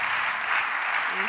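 A church congregation applauding in worship, a dense, loud burst of continuous clapping filling the space, heard briefly on its own.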